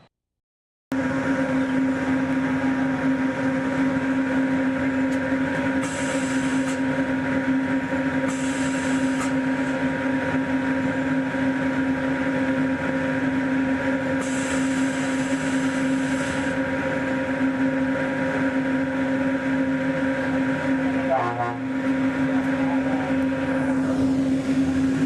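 Steady, even hum of a Walt Disney World monorail in motion, with a constant low drone and whine from the cabin, a few brief hissing bursts and a short clunk late on, and no talking.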